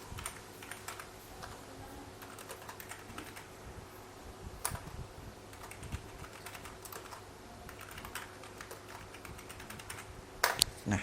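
Typing on a computer keyboard while entering labor costs for a house foundation job: soft, close key taps in an irregular but continuous stream for about eleven seconds, with a few louder clicks near the end.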